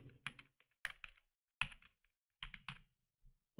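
Keys on a computer keyboard are tapped in short, close clicking bursts as a name is typed into MS Word, with brief pauses between clusters of keystrokes.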